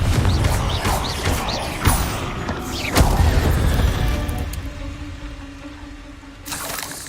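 The fiery Confringo blast spell in Hogwarts Legacy, with several booming impacts and crashing thuds among game effects that fade into a quieter hum.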